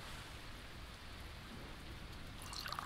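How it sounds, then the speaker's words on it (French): Steady rain falls in the Blight survival video game, a soft, even hiss of drops that runs unbroken and fairly faint, with no one talking over it. "Il se remet à pleuvoir."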